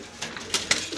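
A lively, active pigeon handled in someone's hands gives a few soft, brief coos over about a second, faint and close, with light rustling and clinking in the background.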